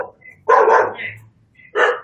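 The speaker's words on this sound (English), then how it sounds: "I have a puppy. That's my puppy." A puppy gives two sharp, close barks about a second apart, loud against an otherwise quiet room.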